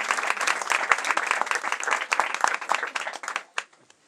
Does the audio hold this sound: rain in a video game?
no